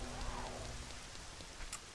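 Steady rain hisses quietly and continuously, a faint even patter with no talk and no thunder.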